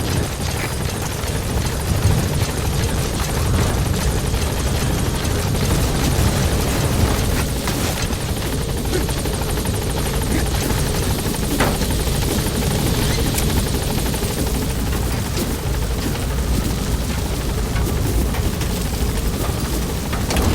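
Pequot's helicopter hovers at the landing zone in Metal Gear Solid 5, a loud continuous rotor roar with rumbling engine noise that holds steady throughout with no voices over it.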